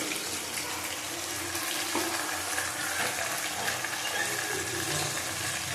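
Water splashes from a bowl into a pan of chicken cooking with ginger, garlic and chili paste and green mango, a continuous hissing, bubbling wash that stays steady and close for several seconds.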